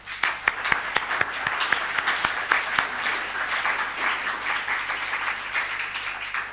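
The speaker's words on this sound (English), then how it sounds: "it's in your own well-being to give them an applause" A lecture audience applauds steadily, with sharp individual claps standing out early on and a high, wavering whistle-like tone running over the clapping throughout.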